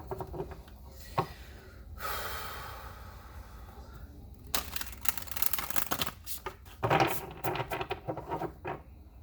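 Crisp riffling shuffles of tarot cards come in a few bursts, fairly close, with soft handling rustles and pauses between them.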